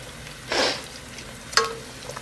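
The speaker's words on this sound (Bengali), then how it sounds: "পেঁয়াজগুলোকে নিয়ে আমি এবার তেলের মধ্যে দিয়ে দেবো।" Roughly chopped onions going into hot oil in a kadai: a short burst of sizzle, then a quieter hiss with a sharp clink or stir, close by over a low background.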